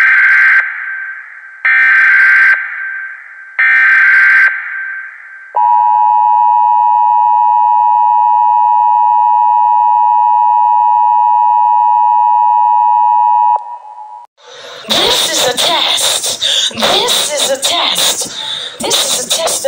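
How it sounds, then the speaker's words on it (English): A NOAA Weather Radio station broadcasts its weekly test: three short bursts of tone, then a long steady warning tone lasting about eight seconds, followed by an announcer speaking over the air. "The preceding signal is a test of the weather radio station, WTB, in public warning system."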